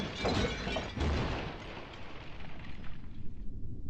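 A loud, sustained crashing roar of a collapsing brick tower, with shattering bricks and rumbling debris that slowly fades over a few seconds.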